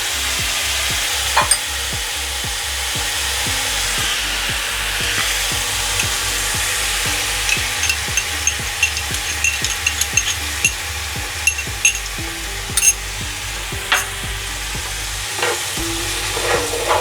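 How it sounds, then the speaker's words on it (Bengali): Ginger garlic paste and onions frying in hot oil in a pan for egg korma, a continuous loud sizzle broken by repeated scraping strokes of a spoon as the mixture is stirred. "আদা রসুন পেস্টটা দিয়ে এভাবে ভালোভাবে নাড়তে হবে, যতক্ষণ না তেলটা ছাড়ছে ততক্ষণ এটা কষাবো।"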